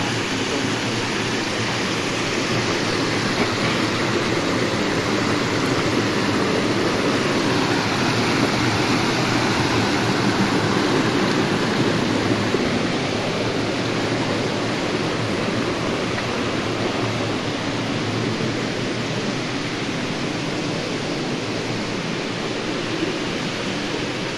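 Steady rushing water flows continuously, a dense broadband roar like a stream or small waterfall close by, unchanging throughout with no voices.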